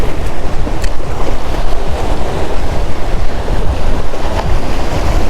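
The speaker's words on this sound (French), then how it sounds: "Les vagues commencent à se lever en plus." Waves rise and churn around an island at a fishing spot, loud rushing surf and sloshing water close by, mixed with heavy gusting wind buffeting the microphone, continuous and without voices.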